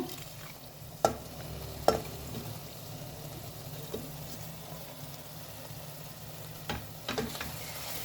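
Potato pieces fry in hot oil for a cabbage fry, giving a faint, steady sizzle with a few sharp clicks of a spoon stirring against the pan.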